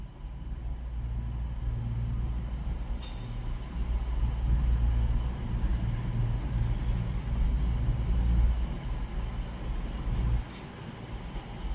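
A class 222 train pulls into Manchester Piccadilly station, a sustained low rumble of wheels and engine that swells and holds, then drops off near the end, with faint squeals and no voices.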